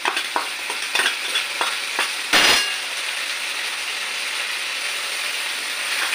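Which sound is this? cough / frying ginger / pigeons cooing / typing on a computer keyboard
frying ginger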